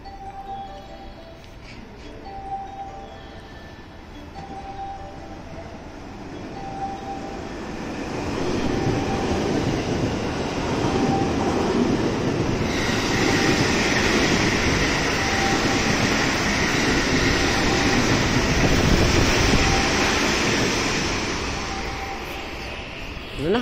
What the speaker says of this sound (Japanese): 快速の通過が見ることができます。